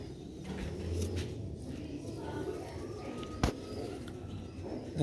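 Old-breed Sialkoti rooftop pigeons coo faintly and low over a steady background hiss, with a brief sharp knock near the end.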